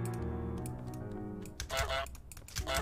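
Cartoonish goose honks from the Untitled Goose Game, several sharp honks, the later two loud and close, over quieter game music and faint tapping.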